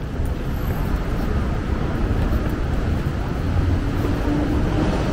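Strong wind roars continuously against the microphone on a walk near Yokohama's international terminal, a dense low rumble with no breaks.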